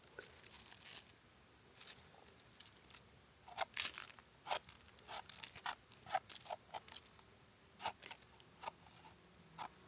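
Knife or scissors snipping through the stem of a freshly foraged wild summer mushroom, a series of short crisp cuts with brief pauses between them, close and fairly quiet, no talking.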